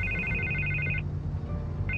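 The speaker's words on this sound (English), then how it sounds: "I can't get the phone to stop ringing." A phone ringing in the Batman Telltale Series game, with a steady electronic double-tone ring lasting about a second, a pause, then ringing starting again over a low background hum.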